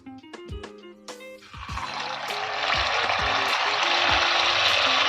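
Fasting-style bhaji fritters drop into hot oil and set off a rising, roaring sizzle that grows louder and steadier, heard close after a few clinking taps and tonal notes at the start.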